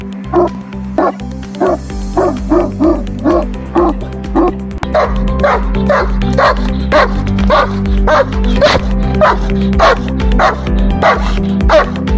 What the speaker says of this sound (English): Powerful and loudest bark. Let's hear it first and we'll decide accordingly.